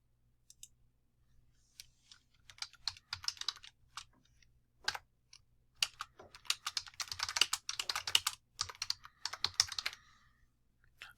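Computer keyboard typing in bursts of quick, fairly close key clicks, heard alone, with short pauses between flurries and a faint low hum underneath.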